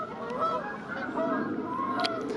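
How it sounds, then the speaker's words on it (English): Several geese honk repeatedly over a steady outdoor background, their nasal calls overlapping and fairly close. "Sorry, the geese are making a lot of noise."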